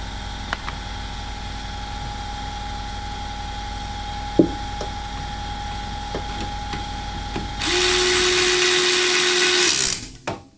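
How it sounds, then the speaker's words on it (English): A power driver runs Torx T25 bolts into a VW CC during rear coil spring work: a faint whine with a few clicks, then a louder sustained buzzing run of about two seconds that winds down. "So we'll just zap these T25s in now."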